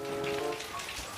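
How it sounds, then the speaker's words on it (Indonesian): Rain falls in a brief, steady patter on a surface, close and evenly spread, with no talking. "Hujan di sini mah"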